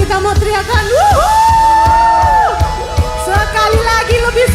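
A church congregation at a worship service shouts "wuhu" together in a loud, sustained group cry with rising and falling whoops, and scattered voices and yells overlap throughout.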